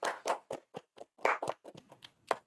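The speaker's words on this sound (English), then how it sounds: "Round of applause." Scattered, uneven hand claps from a small group, a few separate claps spreading out and fading, fairly quiet.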